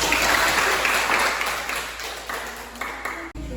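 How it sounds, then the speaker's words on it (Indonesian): An audience applauds after a classroom group presentation, a dense, loud wash of clapping that stays steady through most of the span before tapering and cutting off near the end. "mari kita beri aplaus"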